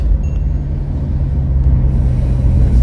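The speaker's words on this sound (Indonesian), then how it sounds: "kita berpapasan dengan kendaraan truk di depan" A truck rumbles past in the oncoming lane on the Lumajang–Probolinggo road in the late afternoon, a loud, steady low drone with road roar and no talking.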